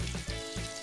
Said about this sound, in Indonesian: tumis bumbu halusnya hingga harum ya